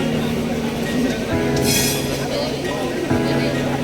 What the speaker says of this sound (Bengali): তো আমাদের ট্রেন এখন শিয়ালদা থেকে ছেড়ে দিয়েছে।